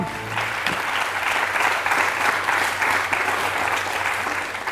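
Audience applause for a contestant on a book quiz show, a dense steady wash of clapping from a studio crowd that holds evenly for several seconds.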